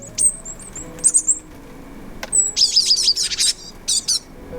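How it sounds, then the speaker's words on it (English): Small birds at feeders in the snowy Scottish Highlands give bright, high chirps and quick twittering phrases in scattered bursts, close and clear over a quiet background. "Now let's listen to those grateful birds."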